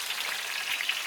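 Green chillies sizzle and crackle in hot oil in a pan, a steady, fairly bright frying hiss that is close and continuous with no pauses.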